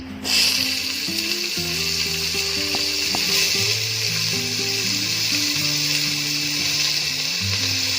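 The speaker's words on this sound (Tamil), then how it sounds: "2 வெங்காயத்தை போட்டுடலாம்." Onions, cardamom, star anise, cinnamon and bay leaves sizzle steadily in hot oil in a pan for egg biryani, a loud, continuous close-up frying hiss with faint stirring scrapes and no talk.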